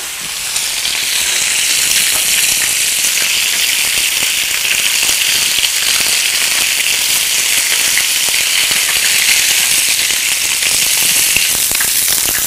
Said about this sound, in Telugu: మనం ఫ్రై రోస్ట్ చేసేసుకుందాం